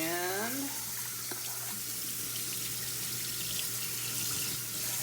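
A kitchen tap runs steadily into a sink while starchy food is rinsed and squeezed by hand for adobo, a continuous loud hiss of water, with a brief voice at the very start.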